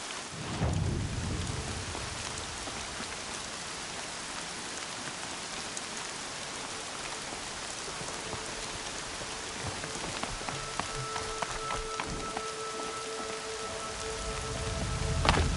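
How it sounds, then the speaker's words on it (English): Steady rain in the video game Horizon Zero Dawn hisses on a surface, a dense, even patter with no voices, swelling slightly near the end. "Rain's not so bad."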